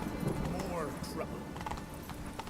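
Roach, the horse in Witcher 3, galloping with a quick clip-clop of hooves and a brief whinny, close and fairly loud under in-game ambience and a voice.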